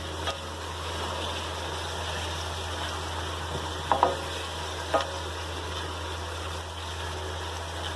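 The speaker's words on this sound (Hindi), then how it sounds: "प्याज जो है वो लाइट ब्राउन होने तक इनको हम थोड़ा सा फ्राई करेंगे" Onions fry in oil in a kadai, making a low steady sizzle over a constant hum, with a few brief clinks and stirring knocks partway through and no talking.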